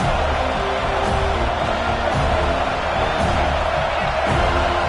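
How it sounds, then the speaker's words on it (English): A college football stadium crowd at a Florida State versus Florida game roars steadily and loudly on a big third down in the red zone, with a dense, continuous wall of cheering and no clear talk. "this crowd is getting behind this defense"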